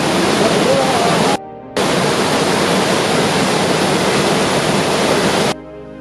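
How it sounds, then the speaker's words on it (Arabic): Waterfall near Skikda, Algeria, a dense, steady roar of rushing water that briefly drops out before resuming, with no voices. "هذا الشلال الدوزيام اللي شفناه اليوم"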